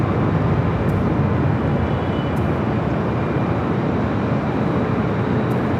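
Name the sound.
American Airlines A319 airplane arriving at LAX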